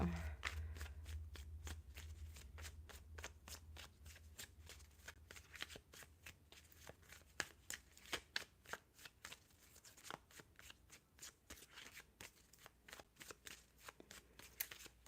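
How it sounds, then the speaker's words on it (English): Rapid riffling of a tarot card deck, a dense run of crisp snapping clicks repeated over and over, close and fairly steady throughout. "While I shuffle for Wami"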